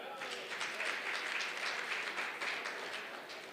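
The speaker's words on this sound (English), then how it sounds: "Can you please just give yourselves a huge round of applause for being here?" An audience at a World Food Day event applauds, a brief burst of dense crowd clapping with some voices mixed in, moderately loud and steady.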